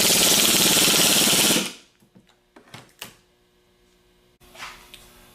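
A 1/2 inch impact wrench with a 15/16 socket hammers on an alternator pulley in one loud burst under two seconds, followed by faint clicks and a short rattle of handling.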